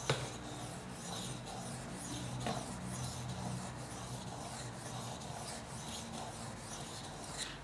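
A Böker Magnum rescue knife is sharpened on a stone with steady, quiet rasping strokes that repeat in a soft, close scraping rhythm.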